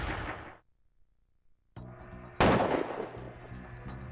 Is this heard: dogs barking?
no